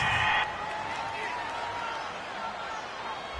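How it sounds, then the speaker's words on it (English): Home crowd in a video game American football match giving a sustained, steady roar after a pass interference call, broad and moderately loud throughout with a commentator's voice over it. "This home crowd, they're happy with that call."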